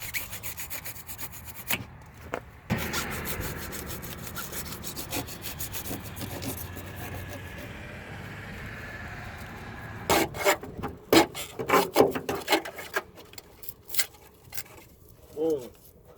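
A Sawzall reciprocating saw cuts away rusted cab corner sheet metal on a budget King Ranch truck, with a steady rasping run in the middle and bursts of choppy cutting near the end, plus a brief voice.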